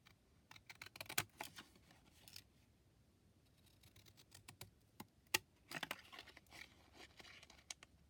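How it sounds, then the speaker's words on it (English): Fiskars Decal Edge paper edger scissors snip through cardstock in short, quiet crisp cuts and crinkles, irregular and close, with pauses between bursts and no speech. "So I'm going to use this Decal Edge Fiskars paper edger scissor"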